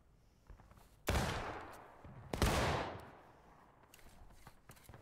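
Video game gunfire, two loud sharp bursts a little over a second apart, each trailing into a rumbling decay, with faint background clicks and no talk.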